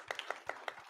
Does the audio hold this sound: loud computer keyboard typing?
no